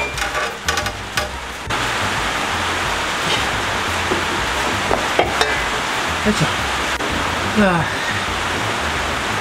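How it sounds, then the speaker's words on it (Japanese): Rain begins to fall outdoors during maintenance work on a 1991 Honda Beat, starting as a sudden, steady broadband hiss that continues evenly, with a brief voice and a few faint tool clinks. "雨が降り始めました"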